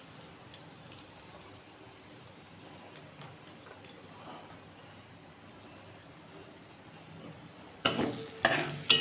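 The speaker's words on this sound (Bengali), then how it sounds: "এই তেলের মধ্যে আমি একটু শুকনো লঙ্কা ফোড়ন দেবো, আর একটু কালো জিরে হাতে ঘষে দিয়ে দেবো।" Dried red chillies and hand-crushed black cumin tempering in hot oil in a kadai: a faint low hiss at first, then sudden loud bursts of close crackling sizzle near the end.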